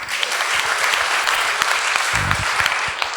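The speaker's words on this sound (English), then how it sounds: "Give him a round of applause." Applause rises from an audience at a talk on greatness through service, a full round of clapping from many people, loud and steady with a few sharper nearby claps.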